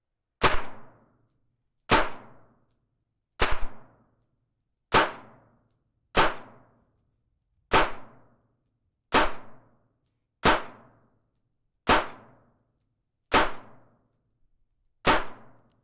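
A brand-new Springfield Hellcat 380 pistol fires Remington UMC rounds in eleven sharp, loud shots, spaced about a second and a half apart, each with a brief ringing decay and silence between them.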